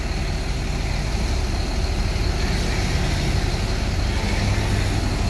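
A Jetbus 5 coach bus of PT Trans Antar Nusa Mulia runs nearby with a steady, rumbling diesel drone that stays constant and fairly loud throughout.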